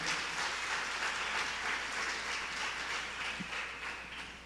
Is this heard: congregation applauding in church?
yes